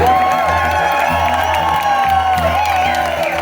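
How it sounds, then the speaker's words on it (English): A concert crowd in Market Hall, Peterborough cheers and applauds between songs, a loud continuous roar of whoops and clapping over a droning stage hum and low rhythmic thumps. "Give him a fucking round of applause, come on."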